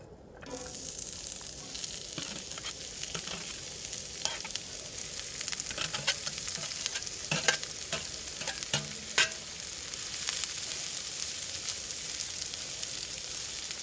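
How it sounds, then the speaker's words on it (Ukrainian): Onion frying in oil in a skillet over an open campfire for borscht, a soft continuous sizzle with scattered crackles and occasional stirring scrapes, fairly quiet and steady with no talking. "обсмажую цибульку"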